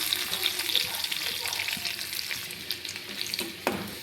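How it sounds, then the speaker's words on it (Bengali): Chopped garlic sizzles close up in hot oil left from frying soya chunks, a continuous crackling hiss with occasional stirring scrapes and a sharp clink near the end. "রসুনগুলোকে হালকা ভেজে নিয়েছি"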